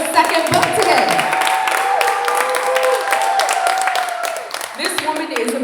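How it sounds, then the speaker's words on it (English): Audience applause for author Savitri Wilson at the launch of her second book, a steady wash of clapping with cheers and voices mixed through it, fading slightly near the end. "give her a big round of applause, Savitri Wilson"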